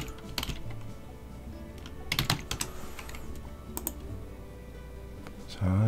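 Computer keyboard keys pressed for an Alt-G shortcut during 3D modeling work: a few close clicks and short bursts of typing over a low background hum, with a voice talking nearby.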